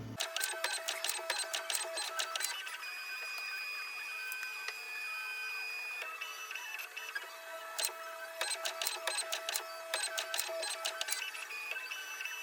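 A Bambu P2S 3D printer runs its homing cycle, giving steady motor whine with dense bursts of rapid ticking and clicking as the axes move, close and clear with no talk.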